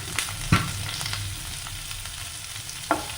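Onion, garlic, chillies and curry leaves frying in hot coconut oil, a close steady sizzle with a few sharp stirring knocks against the pan, no talk.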